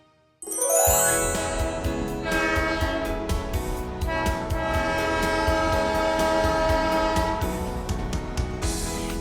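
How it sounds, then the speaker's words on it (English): Toy train sound effect for the Magic Train: a loud, close run of rhythmic clattering with bright ringing bell-like tones and a horn, starting abruptly and continuing steadily without voices. "That's right, it was a train."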